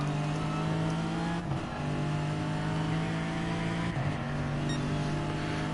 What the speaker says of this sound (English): So appreciate the nice noise that the Lexus makes.